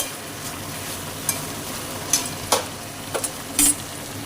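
Sponge gourd being sautéed and stirred in a pan: a low background sizzle punctuated by a handful of distinct spatula scrapes and knocks against the pan, spaced irregularly, close by and with nobody talking.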